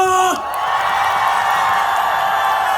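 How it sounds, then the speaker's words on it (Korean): A large crowd at an outdoor trot music concert cheers and whoops loudly and continuously, a dense sustained roar of voices with some applause mixed in, after a brief sung or shouted note at the start. "여러분들 박수와 함성!"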